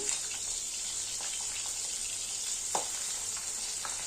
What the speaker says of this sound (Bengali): যে মাছগুলো ভাজা বসিয়ে দিয়েছি